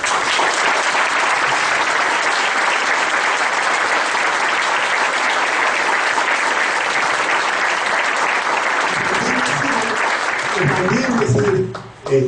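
A lecture audience on labor struggles bursts into loud, sustained applause for a lawyer, a thick unbroken wall of clapping that fades and breaks off near the end.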